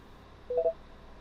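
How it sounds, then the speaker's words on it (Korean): A short electronic alert chime rings once, a quick two-part tonal blip that is clear but soft against quiet room hiss. "알림음이 울렸다."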